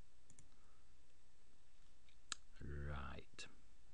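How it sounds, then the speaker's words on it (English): A computer mouse clicks on a tab in a WooCommerce WordPress plugin screen: a few faint, sharp clicks spaced apart in a quiet room, with a brief soft voice sound between them. "So let's click the tax tab."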